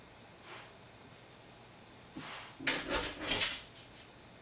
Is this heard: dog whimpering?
yes